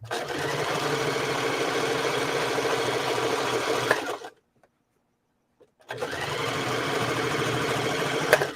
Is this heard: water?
no